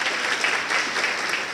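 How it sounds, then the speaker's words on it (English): Brief audience applause for the sponsors at a community event, a dense crowd clapping heard as a continuous rustling wash. "So a big round of applause for our sponsors."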